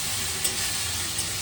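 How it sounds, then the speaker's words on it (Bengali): Mixed vegetables fry in hot oil, producing a brief, even sizzle with a couple of faint pops, steady and close. "সব রকম সবজি মিশিয়ে একদম ভাজা।"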